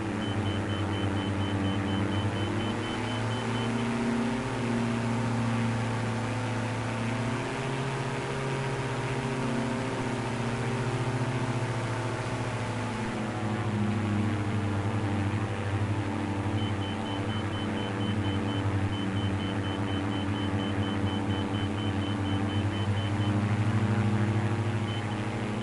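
Steady airplane engine drone from Microsoft Flight Simulator 2024, a heavy aircraft in flight, holds a continuous low hum with shifting harmonic pitch throughout, alone without speech.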